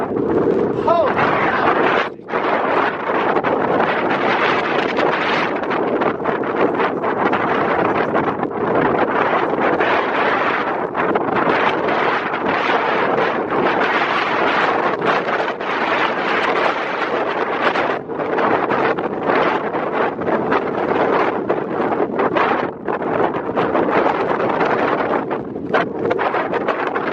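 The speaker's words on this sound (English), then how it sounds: "it's windy as hell." Strong wind roars continuously into the microphone for the whole stretch, loud and buffeting with gusty surges, under an extreme wind advisory.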